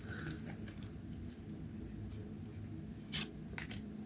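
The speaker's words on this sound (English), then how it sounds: "I'm getting feral now, ripping them open" Pokémon card booster packs are torn open by hand, producing close crinkling and scratchy foil rips, with one sharper tearing burst, over a low steady background hum.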